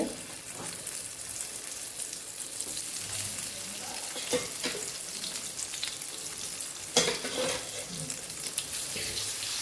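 Eggplant slices frying in a couple of spoons of oil on a tava for lashuni tava bengan, a steady close sizzle with a few sharper crackles and light scraping knocks.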